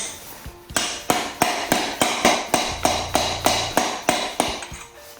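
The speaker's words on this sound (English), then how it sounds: "give it a couple cracks with the hammer" A hammer strikes metal about a dozen times in an even rhythm, tapping a timing gear onto an LS engine crankshaft, each blow a sharp ringing crack, loud and close.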